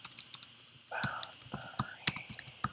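Computer mouse clicks sound as a series of sharp, close taps mixed with keyboard keystrokes, some in quick clusters, over a faint background hum while someone draws a farm boundary on an online map.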